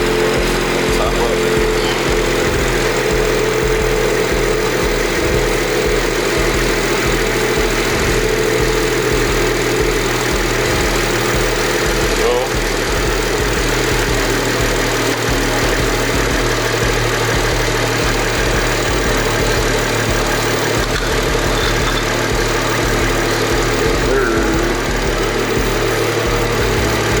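A BMW 340i with an aftermarket downpipe idles after a cold start, holding a steady rumbling drone close by for the whole stretch, with voices talking faintly over it.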